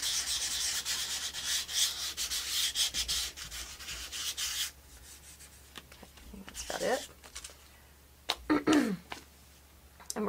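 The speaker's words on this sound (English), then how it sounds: "You're sanding down glue in this case" Close, scratchy hand sanding with coarse sandpaper, removing glue from wood in quick repeated strokes, stopping partway through, followed by quieter handling noises and a person's brief voice sounds.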